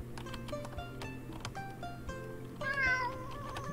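A cat meows in the video game Wandering Sword, a short rising meow near the end over steady game music and background ambience.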